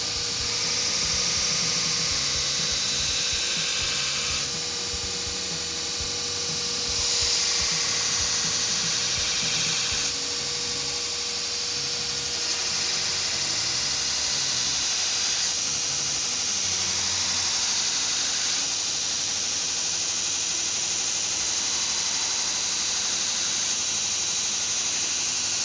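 A belt grinder grinding the bevel into a knife blade, a loud continuous high whine and rasp with regular brightening passes of metal against the belt, alone without talk.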